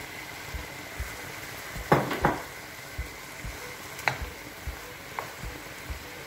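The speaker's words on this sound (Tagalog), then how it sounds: "Tuloy-tuloy lang po ang paghalo natin." Pancit bihon noodles with celery fry and sizzle steadily in a pan, with a few soft clinks and scrapes of the utensil as they are stirred.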